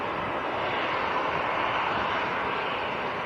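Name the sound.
EasyJet Airbus A319 jet departing Manchester airport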